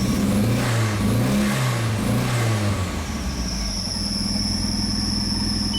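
A Volkswagen Jetta 1.8T engine with a number 2 cylinder misfire and poor throttle response runs and revs. It rises and falls through a couple of revs close by, then settles into a steady idle with a faint high whine.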